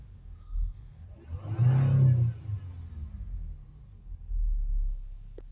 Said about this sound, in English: we'll just give the vehicle a few revs to get the chemicals pushed out